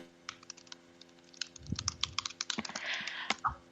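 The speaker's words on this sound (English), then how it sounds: "Sorry, I was typing a message." Quiet, fairly close clicking of keys on a computer keyboard as a message is typed, in irregular bursts.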